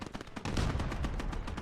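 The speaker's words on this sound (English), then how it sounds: "Just some heavy artillery going on." Heavy artillery fire in Gates of Hell: Ostfront, a World War II game on the Eastern Front, rumbling as continuous dense booms and rattling shots that swell louder after a brief quieter start.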